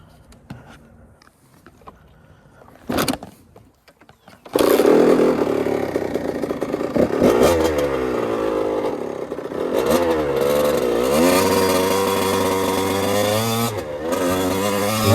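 A 2005 Kawasaki KX100 two-stroke dirt bike sits quietly with faint clatter, then fires up loud and close, idling raggedly before a series of rising and falling revs, pitch sweeping up and down, no talking.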